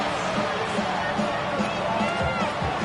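An NFL football crowd at MetLife Stadium during a Vikings versus Giants game roars continuously as a dense, steady wall of cheering and noise, loud and unbroken throughout.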